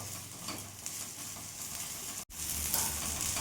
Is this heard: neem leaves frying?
yes